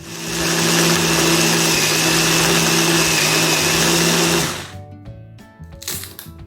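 A blender runs loud and steady on frozen lemonade ingredients with ice, then cuts off abruptly, followed by a brief restart pulse and small clattering.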